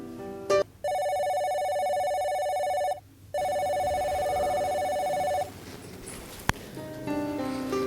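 Telephone ringing indoors in a home, with a steady electronic ring tone in two long bursts separated by a short pause, loud and close, then fading into quieter room noise.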